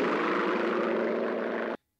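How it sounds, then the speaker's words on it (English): An Allied propeller airplane roars overhead in a 1970 war film, a loud, dense, continuous engine drone that holds steady and then cuts off abruptly. "That's an Allied plane."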